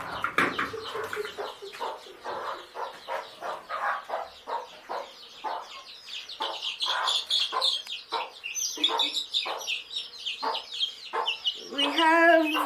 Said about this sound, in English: Let me just have a few of the small chicks.